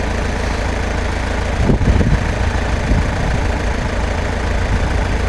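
An LTZ-60AV tractor engine idles steadily up close, a low continuous rumble with a brief rougher surge partway through, no voices.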